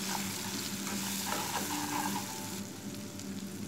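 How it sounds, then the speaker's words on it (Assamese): Chopped onion and tomato fry with spices in a pan for chole, a loud close sizzle with stirring scrapes throughout and no voices. "মছলাখিনিৰ লগত পিয়াজ আৰু বিলাহীখিনি কমেও মই 3-4 মিনিটমান ভাজি লৈছো।"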